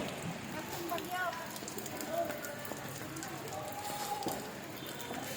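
Steady rain falls on a surface during a stormy Christmas season outside a street vendor's stall, a constant dense patter running throughout under faint background voices and distant sounds.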